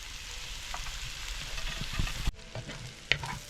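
Shallots and curry leaves sauté in a pan for a rabbit roast, crackling and sizzling steadily while a utensil scrapes and stirs, with a couple of sharp knocks near the end.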